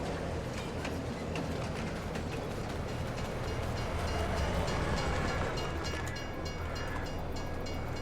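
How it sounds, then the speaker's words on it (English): Train rolling past in the Farming Simulator 22 video game on the Elmcreek map, a steady loud rumble with rhythmic rail clatter that fills the whole stretch, no talk over it. "Hello there, train."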